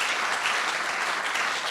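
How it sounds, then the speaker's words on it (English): A full round of applause rises from the audience at a community wildfire preparedness meeting. It is dense and continuous, close and even in loudness throughout the brief burst. "Can we have a round of applause for Ariel?"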